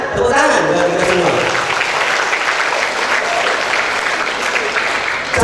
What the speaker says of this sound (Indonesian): Tepuk tangan bagi kita semua.